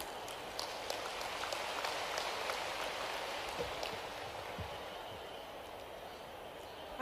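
Crowd applause at an outdoor ceremony at Kuno National Park, Karahal, Sheopur, a steady dense patter of clapping holding for several seconds at moderate distance.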